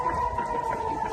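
Air raid siren in Israel, a steady sustained wail held at one pitch throughout, moderately loud and slightly distant over a rough background hiss, with no talking.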